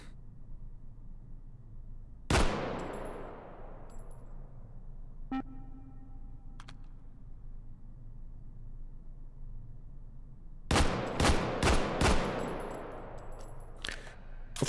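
A G3SG1 rifle in Hot Dogs, Horseshoes and Hand Grenades fires a single sharp, loud shot with a ringing tail. Quiet handling clicks follow, then a quick series of several more single shots near the end.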